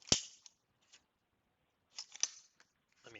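The standard charging handle of a Radical Firearms 16-inch Socom AR rifle is worked, giving two close bursts of sharp metallic clacks and snaps separated by quiet, with a brief voice at the end.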